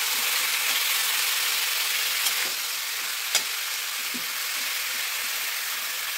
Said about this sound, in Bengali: এবার এটাকে ভেজে নিতে হবে।